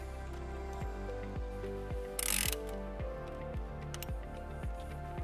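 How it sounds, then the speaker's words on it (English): A hand ratchet with a 12mm socket tightens the battery terminal nut on a 2017 Toyota RAV4, giving a close, rapid series of evenly spaced clicks across the whole stretch, interrupted by one brief burst of hiss. "we'll reattach the nut."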